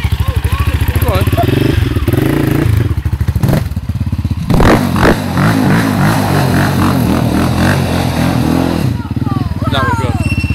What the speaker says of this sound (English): Do a really big wheelie! You need more speed, Shag.